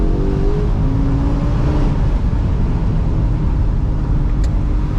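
A BMW E60 M5 with its V10 engine drones steadily from inside the car while driving, a low continuous rumble with no voices.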